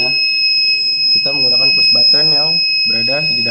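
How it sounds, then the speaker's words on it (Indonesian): An RFID-triggered garage door alarm buzzer sounds as a continuous, steady high-pitched electronic tone that runs the whole time, while a person talks over it at close range. "maka alarm akan menyala atau buzzer akan menyala"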